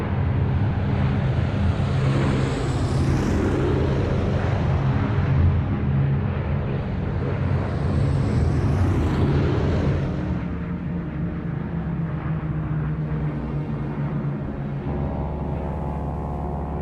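Steady, loud drone of B-17 bomber piston engines in flight, from a film, a continuous rumbling roar with shifting tones throughout.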